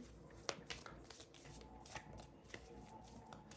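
Oracle cards being shuffled by hand, giving a run of crisp riffling snaps and soft slides at close range, quiet and continuous with sharper bursts throughout.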